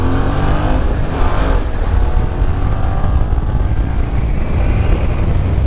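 A Yamaha Tracer 7 motorcycle accelerates hard up through the gears on a Gran Canaria road, its engine a loud, steady roar with wind rush close to the rider and no talk.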